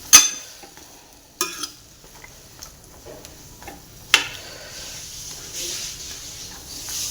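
A spoon scrapes and knocks against a pan while ridge gourd and brinjal curry is stirred, producing sharp scattered clacks over a faint low bubbling simmer, fairly quiet overall.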